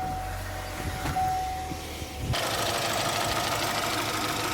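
A 2021 GMC Acadia with the 2.0-liter turbo engine starts, and the crank and catch give way to a steady, loud idle with a coarse, slightly ticking drone; no one speaks.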